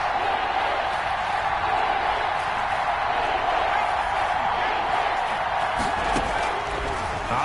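Stadium crowd noise in a PS4 college football video game, a steady dense roar of many voices building toward a big third down, with a commentator talking over it.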